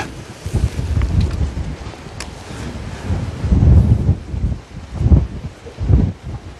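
Strong wind buffets the microphone at the sea during a fishing trip, with gusty low rumbling surges rising and falling throughout, and faint water and surf noise underneath.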